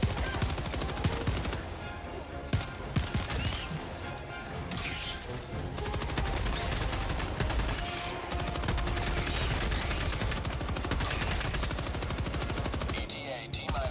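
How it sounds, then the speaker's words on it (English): Machine gun fire in the co-op shooter Helldivers 2: dense, sustained bursts of rapid gunfire rattle almost nonstop, loud and close, with crashes and impacts mixed into the chaotic battle noise. "Oh no, I called down a machine gun."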